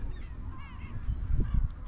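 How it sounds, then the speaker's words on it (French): Gulls calling over a busy seaside market, a few high cries rising above a dense low rumble of crowd and traffic noise, moderately close. "Énormément de mouettes."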